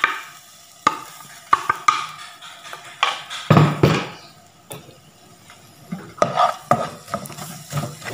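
Sugar being stirred in a pan as it melts into caramel, with a spoon scraping and clinking against the metal in irregular bursts over a soft sizzle, close and fairly quiet, no voices.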